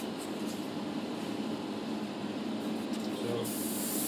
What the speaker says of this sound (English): now it's time to put on another layer of worn effects or hairspray,